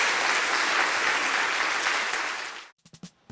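Loud, dense audience applause fills the room for a conference panel, steady and sustained before cutting off abruptly, followed by a few brief faint sounds.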